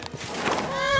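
A horse in the video game Kingdom Come: Deliverance II gives a short, shrill whinny that rises and trails off, preceded by a few soft thumps, fairly close and clear.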